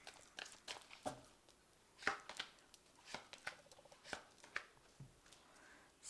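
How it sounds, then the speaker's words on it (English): Fairy Tarot cards are shuffled and drawn, giving quiet, irregular papery flicks and snaps close by, each one short and crisp with brief pauses between them. "I'm just going to draw some cards from the Fairy Tarot"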